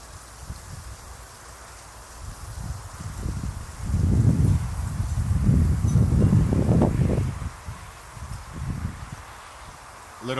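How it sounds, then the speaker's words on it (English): Gusty wind blows outdoors at night during a meteor shower watch, coming in rough low rumbling buffets against the microphone that swell loudest in the middle and ease off toward the end. "Little windy out there, huh?"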